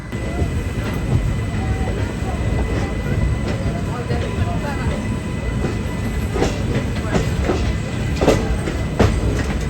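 Shri Ganganagar–Delhi Express rolling into Old Delhi station, a close, steady rumble of wheels and carriages with scattered clicks and clatter over the track throughout.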